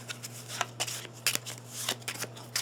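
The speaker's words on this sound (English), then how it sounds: "And then we're going to shuffle these up." Playing cards being shuffled during setup of the Nemo's War board game, a series of quick riffling bursts in a steady rhythm, close and clear over a low steady hum, with no talking.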